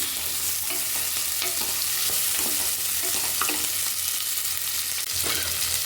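Potatoes sizzle and crackle continuously in a hot pan with oil while cooking a chana dal and capsicum curry, close and steady, with occasional stirring clinks.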